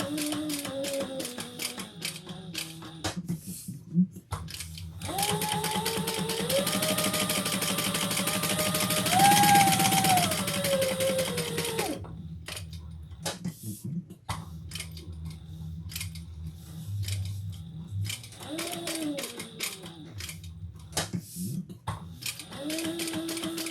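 A sewing machine with a worn needle stitches leather and vinyl for a crossbody bag: a close motor whine rises and falls over rapid rhythmic needle clatter in several bursts, with quieter handling noises between runs.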